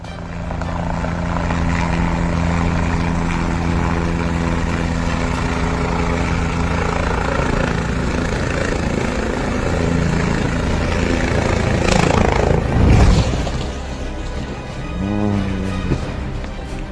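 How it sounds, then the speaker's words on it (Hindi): A helicopter attempts to land in Mahad, Raigad, before crashing, its rotor and engine roaring loudly and steadily, then surging in a brief rough burst toward the end before settling back. "जहां इस हेलीकॉप्टर का पायलट उसकी लैंडिंग कराने की कोशिश कर रहा था"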